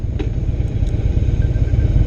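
A 2016 Harley-Davidson Low Rider motorcycle rides at low speed, its engine giving a deep, loud, steady throbbing rumble with a fast pulsing beat, heard close up with faint wind and road noise and no talking.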